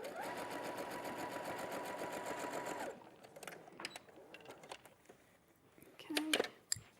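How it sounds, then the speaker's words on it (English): A domestic sewing machine runs in a fast, even burst of stitching for about three seconds, then stops, followed by light clicks, fabric handling and a few sharp knocks. "Sewed over the pin there."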